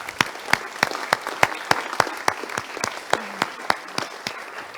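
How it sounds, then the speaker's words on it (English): Audience applause welcoming architect Thomas Rau onstage at a circular economy talk, steady moderate clapping with sharp individual claps standing out throughout, fairly close and alone. "For now, please a warm applause for Mr."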